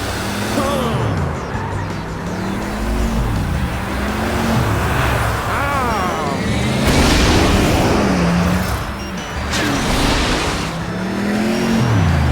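Cars in a mobile racing game roar continuously, engines rising and falling in pitch with repeated revving sweeps and passing whooshes, loud and up close under game music, no voices.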